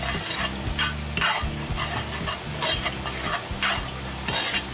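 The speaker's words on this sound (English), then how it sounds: "I'm gonna go ahead and sprinkle a little bit of flour in there. What I'm gonna make here is a roux." Flour being stirred into reduced liquid in a Dutch oven to make a roux: steady scraping strokes with a spoon against the pot over a constant sizzle, loud and close, with no talking.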